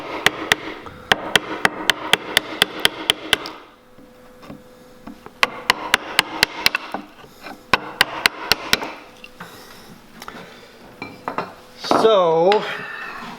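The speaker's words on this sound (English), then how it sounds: "Get that chisel right in that knife cut." Chisel struck into a knife-cut line in wood while building a shooting board, two long bursts of rapid sharp taps close by, followed by scraping and a brief buzzing whine at the end.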